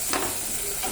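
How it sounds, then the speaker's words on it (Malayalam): Onion, capsicum and carrot are stir-fried for noodles, giving a brief, loud, close sizzle with a scraping stir. "ഇത് നന്നായിട്ട് ഇളക്കി കൊടുക്കാം കേട്ടോ"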